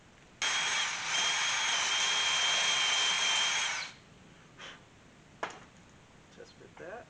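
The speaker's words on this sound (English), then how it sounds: "So we're going to go ahead and finish drilling this." A power drill whines loudly and steadily for about three seconds while drilling metal for a homemade automatic-transmission shifter, then stops; a few faint clicks and knocks follow.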